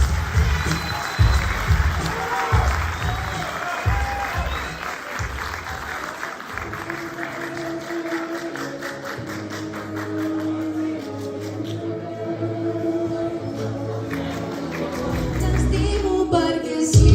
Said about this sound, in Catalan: fort aplaudiment per nosaltres.